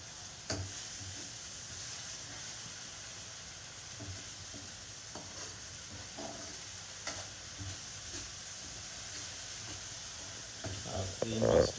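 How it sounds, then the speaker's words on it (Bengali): Mixed spices sizzle and hiss steadily in a pan while being stirred with a large sea fish, a continuous close frying noise broken by occasional scraping clinks and a louder stir near the end. "আর এখন মশলা কষানো হচ্ছে।"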